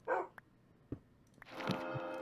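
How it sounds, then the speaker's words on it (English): A Minecraft dog barks in a video game, a few short, moderately close yips and barks spaced apart, followed by a steadier whining tone. "This dog is trying to get me to kill it."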